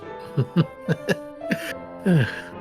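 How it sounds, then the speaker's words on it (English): Several short coughs and throat-clearing bursts from people in a video game, in quick succession, ending with a stifled chuckle; close and fairly quiet. "he could hear giggling, uncomfortable chuckling, and people coughing to disguise their laughter"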